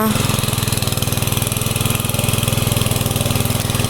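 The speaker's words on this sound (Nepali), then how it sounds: "अब मिसिन कराएकोले केही सुनिँदैन" A ploughing machine's engine runs steadily close by, a loud rapid chugging throb that fills the whole stretch without pause.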